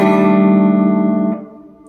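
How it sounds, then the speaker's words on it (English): Electric guitar through a Walrus Audio Slotva reverb pedal with dials near full, a sustained chord ringing with a subtle echo wash, then a decaying reverb tail after the strum is damped; no voices. "it's a very, very typical reverb sound"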